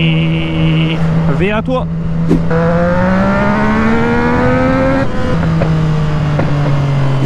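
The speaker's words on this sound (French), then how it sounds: "Elle me rend fou cette moto" A motorcycle engine revs and holds a climbing, droning pitch close by, falling back near the end, while someone talks over it.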